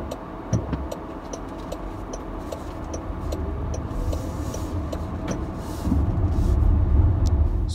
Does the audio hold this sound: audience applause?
no